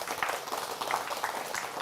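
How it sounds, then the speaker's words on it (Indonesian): Scattered clapping from an audience at the close of a religious sermon at a police-hosted tabligh akbar, soft and somewhat distant, with a faint voice mixed in. "Nah, ini sunat tepuk tangan berarti selesai ceramah."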